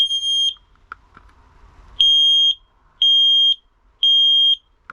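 A carbon monoxide alarm aboard a Jeanneau 795 boat sounds its test pattern: four loud, shrill electronic beeps about half a second each, evenly spaced a second apart, with faint handling clicks between them and no talking.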